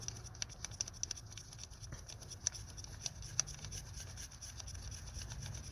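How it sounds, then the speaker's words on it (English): A long screw is unscrewed on a Jeep Compass 2.4L engine during a spark plug and ignition coil change, a quiet up-close run of small ratcheting clicks and light scraping over a low hum. "Unscrew that. It is a long screw."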